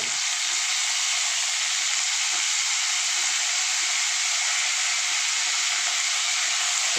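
Green chilies, curry leaves and a small piece of ginger frying in hot oil, a steady loud sizzling hiss that runs unbroken from start to finish.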